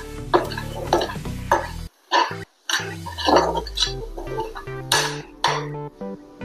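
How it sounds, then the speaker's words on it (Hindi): A spoon scrapes and clinks in a pan while red chilli powder and salt are stirred into koodru and chana dal, with soft sizzling, a couple of short pauses and a rhythmic stirring pattern close by. "अच्छे से और से मिक्स कर लेंगे।"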